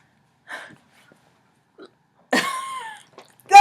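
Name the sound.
burp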